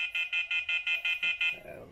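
The temperature alarm of an M2ED thermal camera sounds a rapid series of about nine evenly spaced high electronic beeps, fairly loud and close, ending with a brief rustle.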